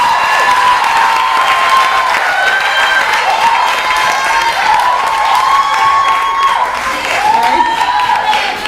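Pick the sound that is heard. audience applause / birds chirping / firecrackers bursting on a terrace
audience applause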